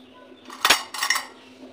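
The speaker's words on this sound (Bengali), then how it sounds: "আমি এখন কড়াই নিয়ে আসি, কড়াই হাতা খুন্তি কড়াই সব নিয়ে আসি।" A metal wok, ladle and spatula clatter in a home kitchen, two quick close metallic bursts in the middle of an otherwise quiet moment, with no talk over them.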